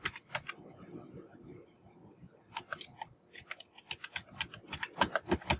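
Fingers type on a computer keyboard while entering text in Canva, producing quick, irregular bursts of light clicks. The keys sound close up, with short pauses between runs.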